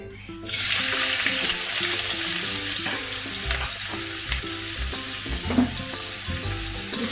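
Half a cup of shrimp with a pinch of turmeric fries in a pan over medium heat, giving a steady, loud sizzle broken by stirring clatter, with tonal background music underneath.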